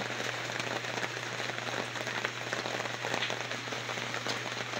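Sudden heavy rain at 4 a.m. falls continuously, a loud, even roar of drops pattering on surfaces nearby, with occasional sharper splashes.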